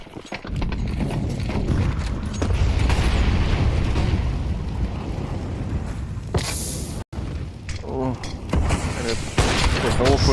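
A grenade goes off during a CS2 match, a sharp burst breaking through a steady roar of game noise while a commentator keeps talking over it.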